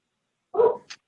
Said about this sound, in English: Somebody's puppy.